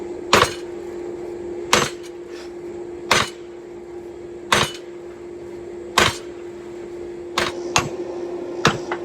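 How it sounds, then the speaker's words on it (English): Heavy hand-hammer blows ring out on metal while forging a flatter, about seven sharp strikes at uneven intervals over a steady low hum. "we're going to go at it with a big hammer"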